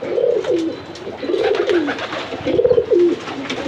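Mixed and Satin pigeons in a house loft with young ones coo in repeated, close, rising-and-falling phrases, three or four times over a soft background rustle.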